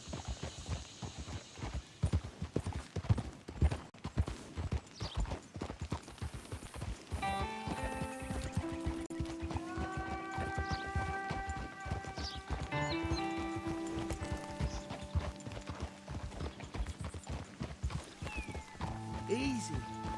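Horse hooves clip-clopping in Red Dead Redemption 2, a steady rhythmic trot heard close and continuous under spoken dialogue and a music score that comes in partway.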